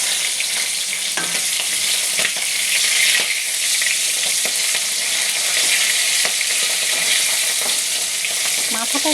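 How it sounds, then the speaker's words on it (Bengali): A fish head frying in a pan, giving a continuous loud sizzle and crackle close by, broken by occasional light scraping ticks from stirring. "মাথাটা একটু ভাজতে হবে"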